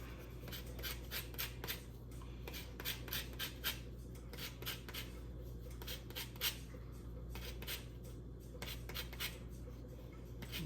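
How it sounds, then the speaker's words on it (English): Lemon zest is grated for Liberian chin chin snack dough, a faint, quick run of rhythmic scraping and rasping strokes close by, with no speech. "Next, we're gonna do grate a little bit of the lemon zest."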